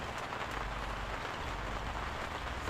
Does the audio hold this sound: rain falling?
yes